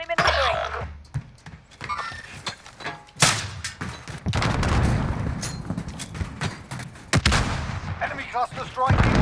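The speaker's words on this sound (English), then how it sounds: "Enemy cluster strike incoming, take cover!" Cluster strike explosions in Call of Duty Warzone: a rapid volley of heavy blasts and sharp bursts, loud and close, rolling over one another for several seconds with brief lulls between impacts.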